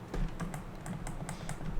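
Plastic buttons on an imitation DualShock 3 controller clicking in a quick, regular series of light taps, close by, with no talking.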